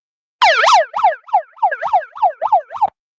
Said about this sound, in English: We need some early morning sirens to celebrate this great accomplishment.